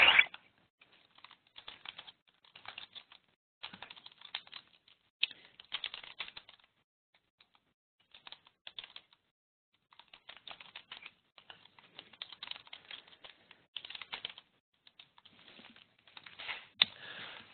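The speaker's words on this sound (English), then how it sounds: "I will type those into the message box" Quiet bursts of typing on a computer keyboard, clusters of quick clicks separated by short pauses, close and faint against near silence.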